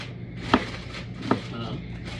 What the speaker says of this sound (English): I was telling them I'm trying to knock the seeds out.